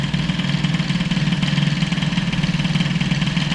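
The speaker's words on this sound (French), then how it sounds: "En tout cas, le ralenti a l'air stable." A Peugeot 103 moped engine with an air-cooled Airsal 65 kit idles steadily, running as a close, continuous mid-pitched putter with a fine, even pulse throughout.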